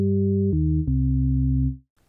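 Pure, smooth sine tones from a Cherry Audio Sines synthesizer step down in pitch twice. Each note holds steady and clean, and after about two seconds the sound drops to silence.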